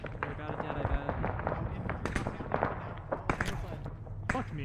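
Distant gunfire rattles across a ridge in Arma 3, faint crackling shots in irregular bursts under a low background rumble.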